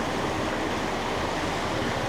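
Strong, fast river current during rain on a mountain road between Phandar and Gilgit, a dense continuous rushing roar of water, steady and close with no voices.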